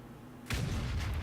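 One tank gun shot from World of Tanks on the El Halluf desert map, a sudden heavy boom that cuts in abruptly and rolls on as a sustained low rumble.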